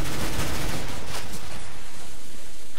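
Dense, continuous gunfire and explosion noise from a multiplayer shooter game, loud and close, a rapid broadband roar lasting the whole moment with no clear gaps.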